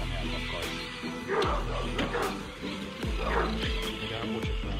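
A dog barks outdoors in a run of repeated barks and yips, fairly close, mixed with people talking and other background noise.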